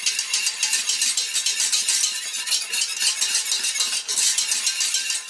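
A wire whisk beats a Mornay cheese sauce for eggs in a saucepan on the stove, giving a steady, fast, rhythmic metallic scraping and rattling that continues close and clear without any talk.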